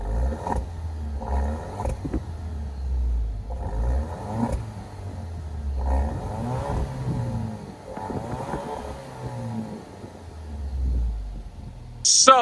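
A 2025 Alfa Romeo Stelvio Veloce SUV engine revs in several short bursts, rising and falling a few seconds apart, with a low rumble between them and a brief sharp sound at the end.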